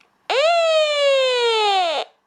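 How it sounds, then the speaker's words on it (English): A Midland 74-109 weather alert radio's steady electronic siren tone blares loudly for about two seconds, holding a rich, buzzing pitch that sags slightly before cutting off abruptly. "When you put it in LED and alarm mode, it will play the siren"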